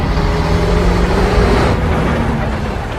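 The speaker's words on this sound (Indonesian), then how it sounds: "Tak lama kemudian truk itu akhirnya berhasil masuk ke dalam mall." A truck in a zombie film drives into a mall, its engine a steady, heavy rumble that stays loud and close throughout.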